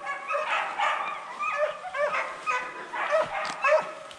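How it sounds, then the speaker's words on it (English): Hunting dogs bark and yip during a deer hunt, several dogs together in a steady, overlapping chorus of repeated calls at fairly close range. "Got all your dogs over here, Ronald"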